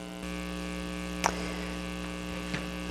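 A serger overlock machine sews the shoulder seam of a knit shirt, giving a steady low electric hum with faint ticks throughout, fairly quiet and with no talk.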